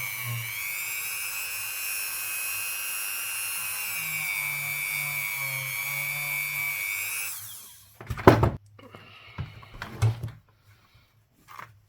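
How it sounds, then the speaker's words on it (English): A Dremel rotary tool polishes rings made from Ukrainian 50 kopiiok coins, a high steady whine for about seven seconds before it winds down, followed by a few short scraping bursts and clunks. "I'll just get Dave the Dremel out like this and polish them up for you."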